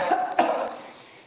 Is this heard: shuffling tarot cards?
no